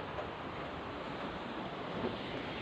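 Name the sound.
wind blowing outdoors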